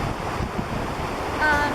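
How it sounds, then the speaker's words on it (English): Fast-moving water rushing over a rocky stretch of the Moose River in North Concord, Vermont, a steady close broadband roar with wind buffeting the microphone and no speech. "as you can see, the water is moving pretty fast, and this section is pretty rocky"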